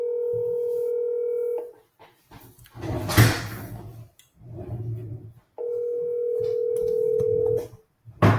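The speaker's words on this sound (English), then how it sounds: "let me call this lady." Telephone tones sound while a call is placed: two long steady beeps separated by clattering handling noises, heard close and clear.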